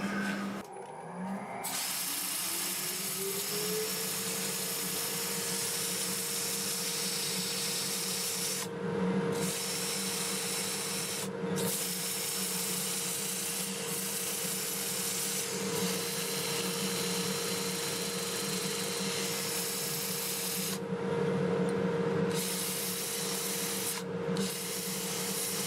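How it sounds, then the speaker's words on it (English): A 2-inch 80-grit sanding disc on olive wood turning on a lathe running in reverse at 350, a steady close rasping rub over the motor's hum, with brief pauses as the disc lifts. "We start with a 2-inch disc, 80 grit, lathe running in reverse at 350."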